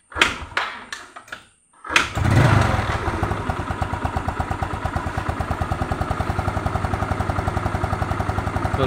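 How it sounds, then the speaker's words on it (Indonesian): Several sharp kick-start strokes, then a brief pause before a Yamaha Mio scooter's small engine catches and settles into a fast, steady, putt-putting idle. "Terus kita engkol dulu."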